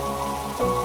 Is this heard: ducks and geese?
no